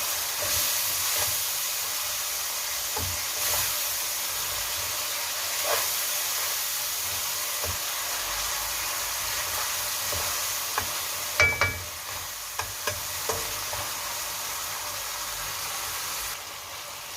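Tomatoes frying in a pan give off a steady, close sizzle with scattered small pops and crackles, running alone without talk throughout.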